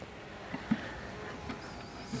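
A faint, continuous hum of honeybees buzzing in a hive during a winter check, with a few soft knocks and rustles close by.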